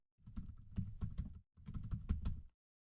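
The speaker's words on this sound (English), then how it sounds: "Let's type effective rent." Fingers type on a computer keyboard in two quick close bursts of clicking keys, with a short pause between them and silence before and after.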